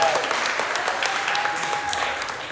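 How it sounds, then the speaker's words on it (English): Audience applause for street dancers at a Lite Feet and Flexn sketching workshop, continuous dense clapping from a crowd, steady and moderately loud throughout, with a faint tone and murmurs beneath. "a round of applause, especially for the dancers"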